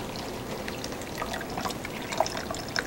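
Dirty water poured into a kidney filter model trickles and drips through it, a soft continuous liquid patter with a few brighter drops near the end, fairly quiet and close.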